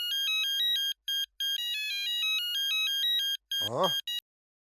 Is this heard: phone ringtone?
yes